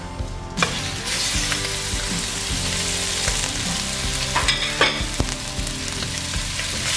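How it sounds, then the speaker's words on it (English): Minced beef and pork fry in olive oil in a pot for chili con carne: a loud, dense, steady sizzle close up, broken by the scrape and clack of stirring, with no talk. "you're going to fry 400 grams of minced meat"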